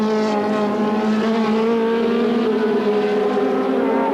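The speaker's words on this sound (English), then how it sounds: "Down from second to fourth in one lap goes the yellow toy BMW of Sean Walker and Bob Evans" A yellow BMW race car at Brands Hatch during a 1985 Thundersports race, a loud sustained engine drone with a slowly rising pitch, close and continuous, with no commentary over it.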